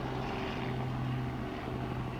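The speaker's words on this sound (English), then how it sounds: "aviation vehicles flying over right now" A helicopter passes overhead outdoors, producing a steady low droning hum with a rotor-like tone that holds at moderate loudness for a couple of seconds, with no talk.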